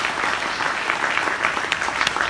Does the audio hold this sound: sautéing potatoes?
no